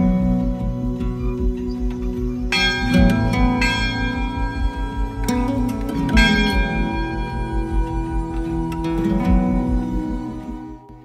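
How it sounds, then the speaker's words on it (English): A bell rung on the summit of Mount Sinai, with repeated metallic strikes and long ringing overtones building into a dense, sustained peal that fills the clip at a loud, steady level. "So it's time to ring the bell up here on Mount Sinai."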